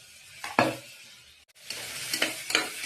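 Prawn masala with tomato, coriander and green chillies being stirred in a pan, with a steady sizzle and a few scraping strokes of the spoon, close and fairly quiet, no talk.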